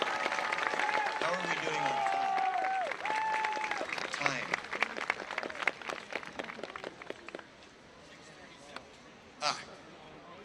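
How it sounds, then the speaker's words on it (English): An outdoor crowd at a Christmas tree lighting ceremony claps in a scattered round of applause, building midway and thinning out, while a nearby voice speaks over the start and background chatter carries throughout. "So give a round of applause to them, please."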